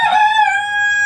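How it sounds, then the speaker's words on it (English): A cockerel crows once, close and loud, a single sustained harmonic call lasting about a second, heard alone in a backyard chicken flock. "This rooster, Cockerel, has faced off with a few of the hens"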